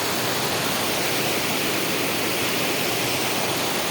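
A rain-swollen stream rushes along after two days of steady, unbroken rain, producing a continuous, dense roar of turbulent water that stays loud and even throughout, with no voices over it.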